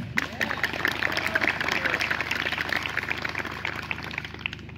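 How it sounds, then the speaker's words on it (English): An audience claps at a horror-film Q&A at a small theater, producing a dense, steady patter of applause that carries from the start of the clip to the end without pausing. "Give a round of applause, you guys."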